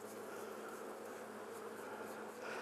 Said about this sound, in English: Let's brush those bees off.